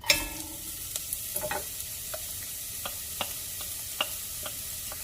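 Onion, carrot and celery saute in olive oil in a heavy-bottomed pot, a steady sizzle running throughout with scattered soft scrapes and clicks of a spoon stirring, close and moderately loud with no talking.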